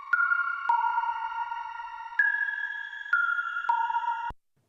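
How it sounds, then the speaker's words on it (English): Soft synth keys from the Ghostly sample pack play sustained, pretty chords that shift every second or so, clean and alone, before cutting off abruptly at the end. "The keys that I had initially really liked from the Ghostly pack are very pretty, but they didn't sound incredibly full."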